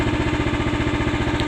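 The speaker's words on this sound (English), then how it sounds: "I got the motor idling down low so that I don't have to holler so much." A Harbor Freight trencher motor idles low and steady, a loud continuous engine drone with an even pulsing rhythm and no talk over it.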